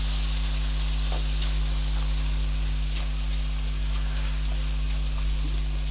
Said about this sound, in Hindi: ये सफ़ेद ज़ीरा है कोरा हुआ 1 चाय का चम्मच, ये मैंने डाल दिया। थोड़ा सा इससे पहले मैं फ्राई कर लूँ,